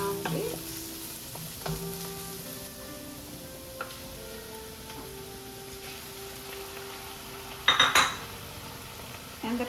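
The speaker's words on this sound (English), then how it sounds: "In 5 minutes, add the ground beef." Ground beef for bolognese sizzles in a pan with a soft, steady frying hiss, broken by a few clinks of a utensil against the pan and a sharp clatter near the end.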